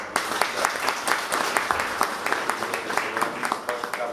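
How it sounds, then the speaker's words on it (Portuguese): An audience claps steadily and loudly for a teacher being honoured at a school event, a dense run of applause with no break. "Uma salva de palmas"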